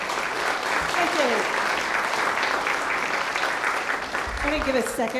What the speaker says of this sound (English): I'm going to give a second round of applause for our amazing tuba player.